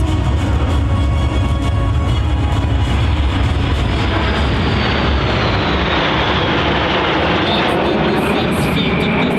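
Frecce Tricolori jet aircraft passing overhead at an airshow during a low-speed turn with the airbrake extended, a loud, dense, continuous jet roar with a slowly shifting whine, close and filling the whole stretch.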